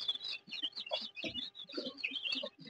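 Young local chicken chicks about 26 days old chirp continuously in a flock, with overlapping high peeps and a few lower clucks, close and moderately loud.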